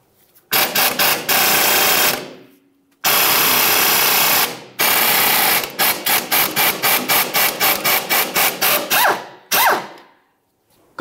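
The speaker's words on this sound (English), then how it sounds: "Use your 14 millimeter and remove it." A 14 mm ratchet loosens the strut pinch bolt on a 2006-2012 Ford Fusion front suspension: loud, close bursts of rapid clicking in several long runs, then a string of short, quick strokes, with brief pauses between.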